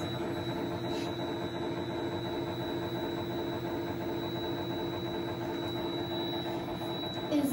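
A honey extractor machine spins frames of honey with a steady, loud motor hum and drone that holds evenly throughout, with no speech.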